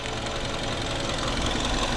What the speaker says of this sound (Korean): 엔진 소음 상태인데 정말 조용하잖아요.